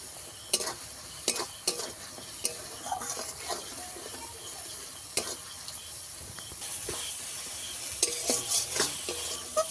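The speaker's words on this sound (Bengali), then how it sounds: "এবারে মশলাটাকে ভালো করে একটু কষিয়ে তেল ছাড়িয়ে নেব টমেটোগুলো একটু ঘেঁটে দেব" Spice paste and tomatoes being stirred and fried in oil in a pan for a rupchanda fish curry, with a steady sizzle and repeated sharp scrapes and clinks of the spoon against the pan, close and moderately loud, with no talk.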